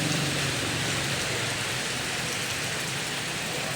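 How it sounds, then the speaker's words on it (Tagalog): Steady rain pours down in a dense, even hiss on a stormy day under a typhoon signal, loud and continuous with no voices. "Huwebes po ngayon na maulan"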